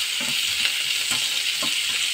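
Chopped onion, green chillies and curry leaves fry in a pan for spinach dal, giving a steady, close sizzle with soft stirring scrapes underneath and no talking.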